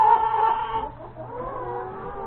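Sapphire Gem and ISA Brown hens clucking close by in a backyard flock, a busy mix of overlapping clucks and murmurs that is louder at first and then settles into steady low chatter.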